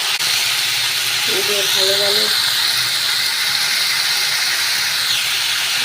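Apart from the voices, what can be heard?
potatoes dropped into hot mustard oil with black cumin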